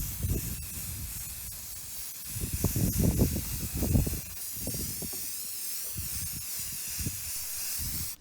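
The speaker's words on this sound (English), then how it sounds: "I'm going to spray it with this Krylon Fusion in copper" Krylon Fusion copper spray paint hissing from an aerosol can onto pumpkins outdoors, in several bursts of varying length with short pauses, fairly close and steady.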